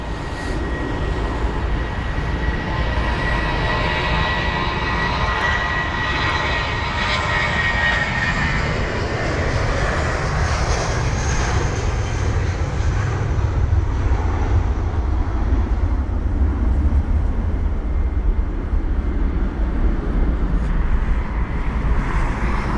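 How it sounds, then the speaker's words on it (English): Heavy jet airliners taxi at London Heathrow, a loud sustained engine roar and whine that rises and shifts as the aircraft move, with no talking over it. "Got the heavier American jets taxiing now as well."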